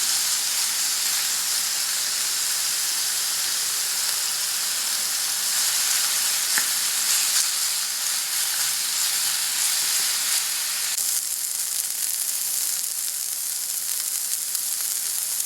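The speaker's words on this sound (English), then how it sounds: "We have a pan full of sizzling hot chicken sausage." Chicken sausage sizzles steadily in a frying pan, a loud, continuous crackling hiss with no talking.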